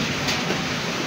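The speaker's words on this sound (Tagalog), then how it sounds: "Umuulan na guys." Steady broadband rain falls outdoors in an afternoon downpour, a dense continuous hiss with no voices, holding even throughout.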